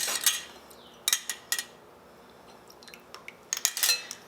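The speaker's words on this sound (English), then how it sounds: "now all we have to do is put on our bands and lids" Metal bands and lids are set onto glass canning jars during home pressure canning, making a few sharp, close metallic clinks and clatters separated by quiet pauses.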